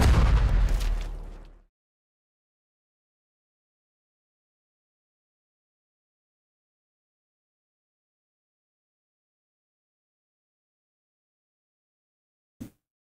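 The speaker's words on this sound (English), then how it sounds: "There's a loud explosion." A loud explosion bursts out in a Nikke video game story scene, a heavy boom that rings out for over a second before cutting to silence, followed much later by one short, sharp thud.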